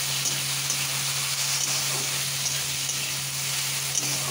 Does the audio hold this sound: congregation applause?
no